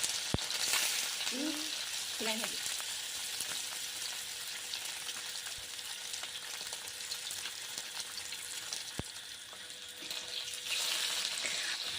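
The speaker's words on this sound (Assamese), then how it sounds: "মাছকেইডোখৰ ফ্ৰাই কৰি ল'ম এতিয়া আমি" Rohu fish pieces being half-fried in a pan give off a steady, close sizzling crackle that holds evenly for the whole stretch, with no voices.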